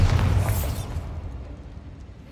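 A Bombarda spell explosion in a video game: a single loud blast that opens the clip, then a rumbling tail fades away over about two seconds.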